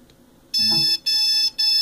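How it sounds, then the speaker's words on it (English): Naza Lite flight controller emits three loud, shrill electronic beeps in quick succession on power-up, each lasting about a third of a second. "It'll beep like that."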